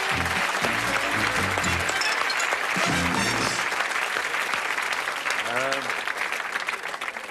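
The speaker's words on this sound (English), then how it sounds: "Give them a round of applause." A crowd claps and applauds steadily throughout, with a voice and some musical tones briefly audible underneath the dense clapping.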